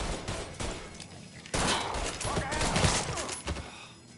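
Gunfire in the video game Mafia 3: sustained loud bursts of automatic fire and overlapping shots in a dense fusillade, with a heavier, more intense stretch in the second half.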